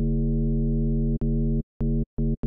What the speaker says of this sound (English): And that just gives you a really trippy, droney kind of vibe to this bass.